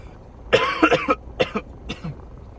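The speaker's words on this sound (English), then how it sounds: "A little update in the cough." A short series of close, harsh coughs, a cluster of three or four followed by a couple of weaker ones.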